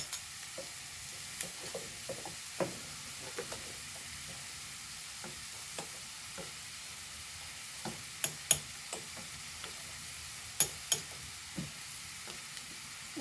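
A spoon stirs chicken kothu parotta frying in a pan, a soft steady sizzle broken by scattered scraping and clinking taps, some sharper knocks clustered near the end, close and quiet with no talk.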